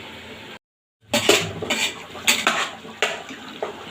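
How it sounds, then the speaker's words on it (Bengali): A metal lid goes onto a simmering pot of Bengali fish curry, with clattering metal knocks and clinks after a short silence, close and fairly loud. "এবার ঢাকা চাপা দিয়ে আবারও ফুটতে দেবো"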